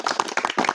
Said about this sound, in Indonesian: Sebelumnya tepuk tangan untuk Pak D.